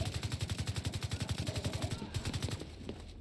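Rapid automatic gunfire from The Division 2, a fast steady burst of shots running for about three seconds, loud and close, thinning out near the end.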